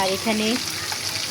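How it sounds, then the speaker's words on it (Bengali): Koi fish frying in hot oil makes a steady close sizzle, with a brief spoken phrase over it at the start. "কই মাছ ভেজে নিচ্ছি।"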